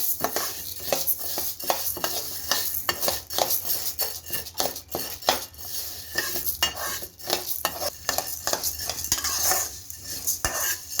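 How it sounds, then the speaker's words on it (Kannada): Urad dal roasting dry in a pan, stirred continuously with a utensil: steady close scraping and clinking strokes against the metal over a faint background hiss, with no voices. "ನಾವು ಎತ್ತಿಟ್ಟಿರೋಂಥ ಉದ್ದಿನ ಕಾಳು ಹಾಕಿ ಹುರ್ಕೊಳ್ಳೋಣ"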